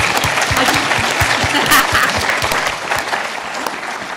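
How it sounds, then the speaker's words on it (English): Sustained applause from a large audience at a Doctor Who convention panel at MCM London 2017, dense steady clapping filling the hall at close range, with faint crowd murmur beneath. "I think we need a round of applause for that"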